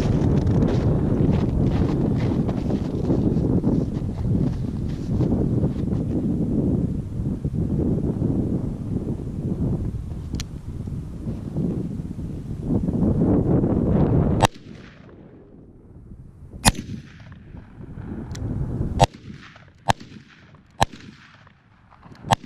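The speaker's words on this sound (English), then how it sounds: "454 Casull Ruger Super Red Hawk Alaskan snub nose. This baby kicks like a beast and it hurts to shoot." .454 Casull Ruger Super Redhawk Alaskan snub-nose revolver fired outdoors: a handful of sharp, loud individual shots spaced a second or two apart, following a stretch of heavy wind rumble on the microphone.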